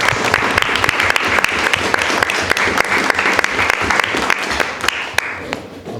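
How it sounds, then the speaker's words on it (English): An audience at a sculpture park talk applauds speaker Aidan, with loud, close, sharp individual claps over a steady mass of clapping that fades slightly at the end. "let's give a round of applause for Aidan"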